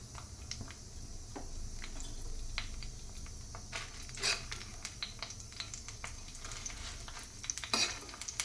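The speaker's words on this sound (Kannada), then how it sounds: "ಆಯಿಲಲ್ಲಿ ಹುರಿಯೋಣ ಈಗ." Black peppercorns fry in oil in a pan, a faint steady sizzle broken by a few sharp pops and scrapes of stirring.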